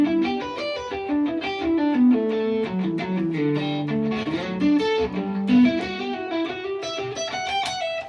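Electric guitar moving through a series of chord changes with distortion and effects, a steady, sustained, fairly loud strummed sequence with no voices.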